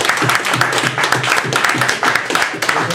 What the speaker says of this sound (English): Let's thank our speaker again with a little more applause.